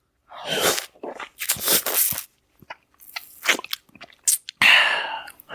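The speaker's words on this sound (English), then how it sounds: "I didn't realise I sound like this when I eat a lolly" Close, wet chewing and crunching noises from eating a lollipop in irregular bursts, loud and right up against a headset microphone, with brief pauses between.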